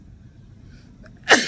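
A single loud sneeze bursts out near the end after a stretch of quiet room noise, sharp and close, with no talking around it.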